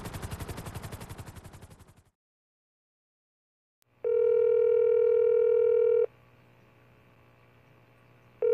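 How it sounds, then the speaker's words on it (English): In the video game GTA 5, a phone call rings through a loud steady electronic tone in a few long bursts after a short stretch of silence, ending in a voicemail connection. "I've already tried James's cell like 20 times, Maya."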